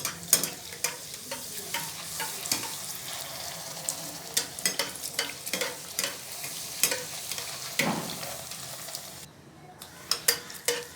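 Papdi rounds of puri dough frying in hot oil, a continuous close crackling sizzle with frequent sharp clicks and scrapes of a utensil, no voices.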